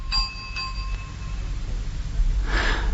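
A porter rings a bell in a cartoon: a bright, short ding with a ringing tail at the start, followed by a quieter second tap, over low background hum, then a soft breathy rustle near the end.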